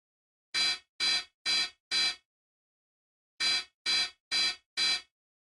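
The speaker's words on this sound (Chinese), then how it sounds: "是我的加练闹钟。" A training alarm clock in the game Mr Love: Queen's Choice rings in two bursts of four sharp electronic beeps, evenly spaced, with a pause between the groups.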